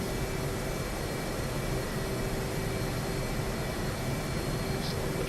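A steady, even whine of an A-10 jet engine taxiing in the DCS flight simulator, a constant broadband roar with a faint tonal hum, unbroken and with no talk.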